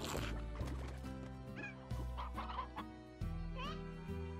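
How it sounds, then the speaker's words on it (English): Chickens cluck and squawk in the video game Slime Rancher, short bursts of clucking recurring over a steady backdrop of in-game music throughout. "Don't fly away, chickens."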